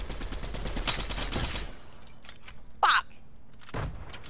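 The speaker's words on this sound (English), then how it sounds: "I hit him with my grenade launcher." Grenade launcher fire in the video game Fortnite: a loud burst of blasts and thuds in the first moment, then a short crack and a later low boom, with brief talk over it.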